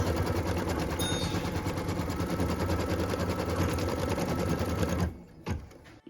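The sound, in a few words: embroidery machine stitching placement line on stabilizer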